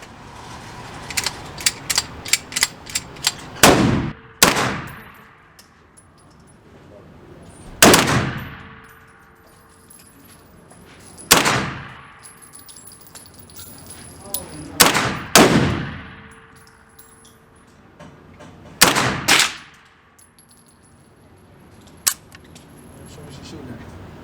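Gunshots at a shooting range, with about eight loud, sharp reports spaced several seconds apart, each with a short decaying tail, and lighter clicks and clatter between them.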